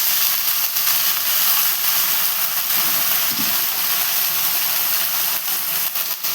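Vegetables with garlic, green chilli and tomato sizzle in a hot pan, a loud continuous frying hiss that stays even throughout with no voices.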